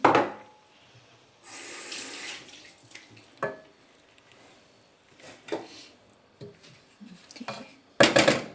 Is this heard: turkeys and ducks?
no